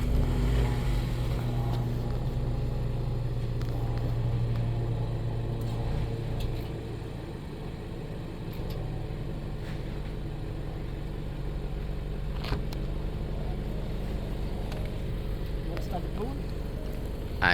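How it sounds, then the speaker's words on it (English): A blue Nissan Sentra's engine starts and runs at a steady idle, a continuous low rumble held throughout, with people talking nearby over it. "He's going to turn on the engine and see how it goes."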